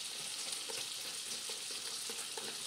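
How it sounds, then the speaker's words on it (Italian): Flour, 130 g, being stirred into a batter for a pan-cooked banana cake, a close, steady wet scraping hiss with soft rhythmic clicks of the utensil against the bowl, without speech. "mischiamo 130 g di farina, e formiamo una pastella"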